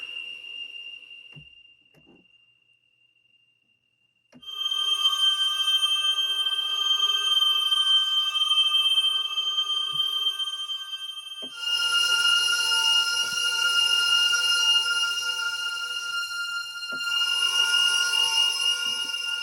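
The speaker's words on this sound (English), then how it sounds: "it's called Chilling Whistles, which obviously it's some kind of bowed glass or metal" A bowed glass or metal sample called Chilling Whistles from the Dronar Metal & Glass library: a thin, high sustained tone that blooms into a shimmering cluster of eerie, bright whistling overtones, swelling in layers with a pause partway through.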